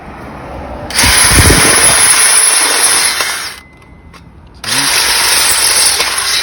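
A loud powered earth auger with a fine bit whirs steadily close up drilling a fence post hole, pauses briefly for about a second, then starts drilling again.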